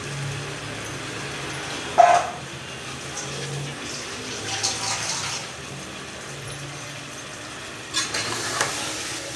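Country chicken curry with ginger, garlic and onion is stirred in a pot over a low, steady sizzle, with a few louder scrapes of the spoon against the pan, no voices.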